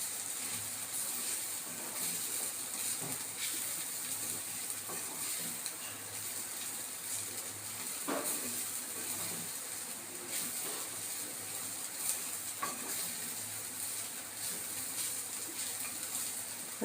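Grated coconut is stirred into a carrot fry in a pan, giving a soft, steady sizzle with occasional scrapes of a spoon against the pan. The faint, even hiss continues throughout.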